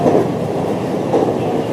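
A Japanese commuter train running again after an emergency stop for an abnormal noise, heard from inside as a steady low rumble with faint rhythmic wheel clatter.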